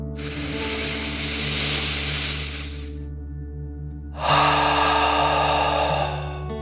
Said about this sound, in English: take another deep dragon breath together